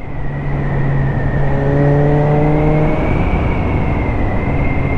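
Suzuki GSX-S 750 motorcycle engine pulling hard under acceleration, a loud steady drone with rising harmonics as revs climb, close to the rider over wind roar, no talking.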